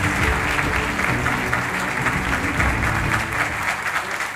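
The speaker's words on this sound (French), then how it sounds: "Donc on peut applaudir." Audience applause fills the hall at the 2022 award ceremony for the Prize for Conflict Prevention and Peace in Lebanon, a dense, steady wash of clapping at close, loud level throughout.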